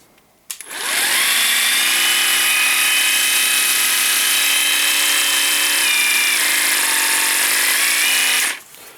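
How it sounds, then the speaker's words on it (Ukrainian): A Bosch 12V cordless jigsaw spins up and runs at a steady, loud, high whine for about eight seconds, then winds down to a stop, close by with no talking. "Це повноцінний лобзик."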